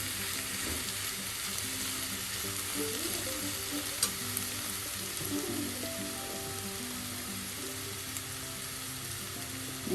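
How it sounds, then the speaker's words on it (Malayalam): Sliced carrots sizzle and fry steadily in a hot pan with coconut oil, a constant crackling hiss broken by soft scraping stirs, close and without speech. "നമുക്ക് ഫ്രൈ ആക്കാം."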